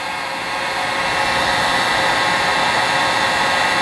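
A heat gun some distance away blows hot air in a steady, loud, continuous whoosh with a slight hum, running alone without interruption while it is used on a fidget spinner bearing.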